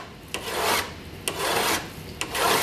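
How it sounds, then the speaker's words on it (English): A metal file rasps along the edges of an intaglio printing plate to bevel them, in three steady, close, loud strokes with short pauses between and no talk. "you want to just go ahead and bevel all four sides of this one down"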